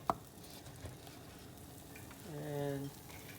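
Potatoes fry in a pan for a breakfast dish, a faint steady sizzle broken by a few soft clicks, with a short hum near the end.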